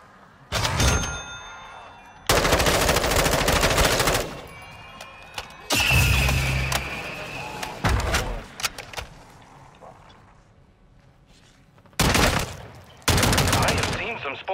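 Call of Duty gunfire comes in loud, dense bursts separated by quieter gaps, with brief game effects and a short voice between volleys.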